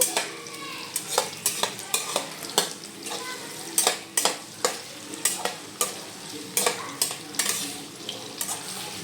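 Chicken pieces for a palav fry and sizzle in a pan as a spoon stirs and scrapes them in quick, repeated close strokes, with faint clinks of metal cookware and no talk.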